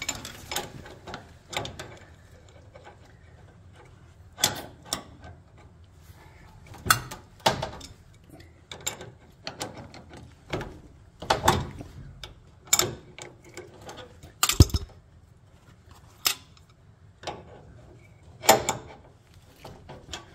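A wrench works a bolt and cotter pins loose on a Bombardier, making scattered metallic clicks, ratcheting ticks and clanks at irregular intervals, close and moderately loud, with no talking.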